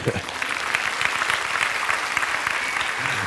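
Applause from a school audience fills the space after a talk by a world champion, a dense, steady crackle of many hands clapping throughout, with voices faintly mixed in.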